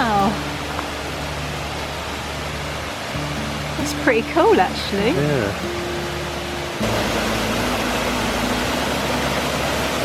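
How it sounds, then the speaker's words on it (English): Waterfall in Germany's Black Forest, a steady, broadband rush of falling water that holds evenly throughout, with hikers talking briefly over it partway through. "This waterfall of the Black Forest."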